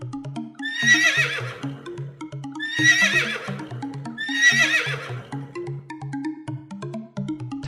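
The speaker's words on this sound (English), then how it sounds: "Horse." A horse neighs three times in a regular rhythm, each loud whinny rising and falling, over a soft repeating musical backing.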